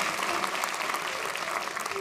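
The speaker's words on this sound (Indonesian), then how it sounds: "Telat tepuk tangannya." A studio audience at an Indonesian comedy talk show claps in a steady, moderate round of applause that continues briefly.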